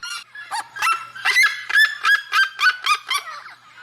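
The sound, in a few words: red-legged seriema call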